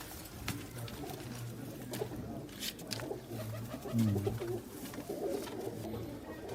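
Pigeons coo softly in repeated low, throaty phrases, several overlapping calls close by against a quiet background with occasional rustling.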